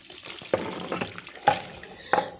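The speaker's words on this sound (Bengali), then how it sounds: "এবার জলটাকে ঝরিয়ে নিচ্ছি একটা ঝুড়িতে" Water from boiled bottle gourd peels drains into a basket in a kitchen, a running, splashing pour with a few louder gushes, while speech carries on over it.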